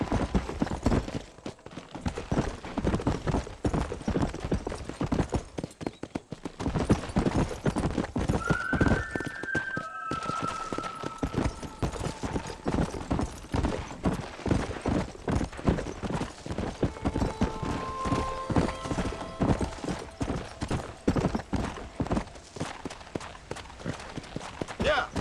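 Horse hooves clip-clop at a steady pace in the video game Red Dead Redemption on PC, with occasional whinnies over a continuous rhythm and a person talking throughout.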